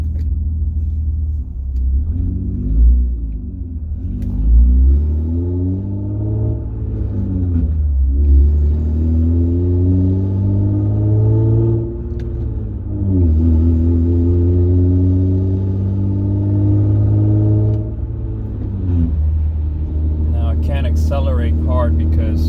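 A loud, deep exhaust rumble from a car driving without a catalytic converter, rising and falling as the engine revs through gears, with a voice talking over it.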